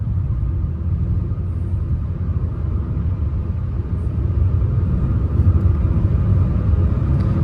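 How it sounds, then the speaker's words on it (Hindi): A 2023 Hyundai i20 N Line facelift accelerates in fifth gear, heard from inside as a loud steady low engine and road rumble that builds slightly toward the end. "ये देखो भाई, हल्का सा मैंने पंजा दबाया है बस, अभी तो 5th गियर है।"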